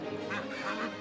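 A short, nasal duck quack sounds close and clear for about a second as a sound effect in a children's telling of the Ugly Duckling.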